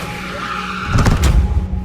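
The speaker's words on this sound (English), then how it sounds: "we've got a yellow flag because Jack Doohan has gone off" A Formula 1 car skids off the track in a practice-session crash, a brief harsh burst of tire noise and impact rumble rising over a steady engine drone, close and loud.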